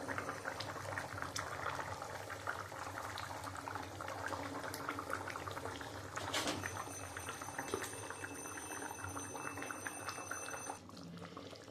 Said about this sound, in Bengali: দেখো বন্ধুরা, ঝোলটা তো ফুটে গেছে।